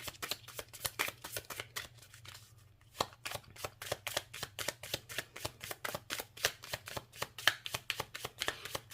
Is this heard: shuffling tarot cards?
yes